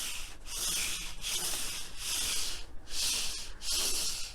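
Knife grinder belt pulled around by hand during grinder setup, a soft rhythmic rubbing hiss in repeated strokes about every half second, close and steady with no talking.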